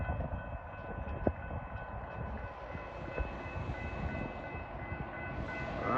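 Norfolk Southern sand train approaching on a rail line in Oconomowoc, a steady low rumble and rail roar that builds gradually over the whole stretch, with one brief sharp clank partway through and no talking.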